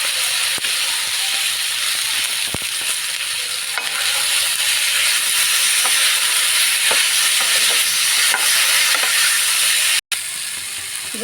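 Shukto fries in a pan as cashew paste and salt are stirred in, a steady loud sizzle with scraping stir strokes and occasional clacks of the spoon, no talking.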